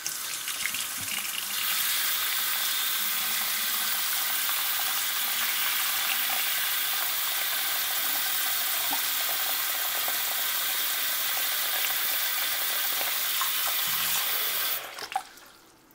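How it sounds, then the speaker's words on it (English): Tap water pours steadily over a MacDev Shift paintball barrel, a loud continuous hissing splash that holds for about fifteen seconds before cutting off abruptly, with no talking. "I'm just going to run it under some water real quick"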